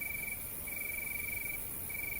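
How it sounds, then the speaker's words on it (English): Crickets chirp in a continuous, even high trill, steady and moderately faint, with no voices or other sounds around them. "I didn't think hell is supposed to sound like crickets"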